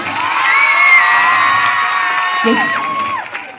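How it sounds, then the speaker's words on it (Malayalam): A school crowd, mostly children, cheers, whoops and shouts loudly and steadily throughout, with high excited voices rising over the din and little clear clapping. "ഇതിന്റെ മാനേജ്മെന്റിന് ഒരു ഗംഭീര കയ്യടി നമുക്ക് കൊടുത്തേ മതിയാകും"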